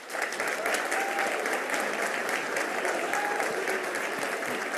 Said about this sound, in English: Please join me in applauding our first school